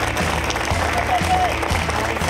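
A studio audience at a televised music competition applauds a contestant and her family, a dense, steady wash of clapping that holds at full strength for about two seconds over a low musical backing.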